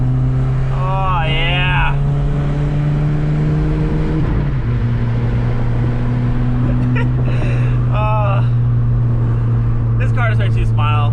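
Twin turbo wagon engine droning loudly as it is driven, the pitch climbing once the throttle opens up, with a man's brief exclamation and a few short voice bursts over the steady roar.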